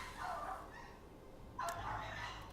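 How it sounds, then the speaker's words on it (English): Dogs outdoors barking back and forth at each other, heard faint and distant as two short clusters of yaps. "Dogs are just barking at each other"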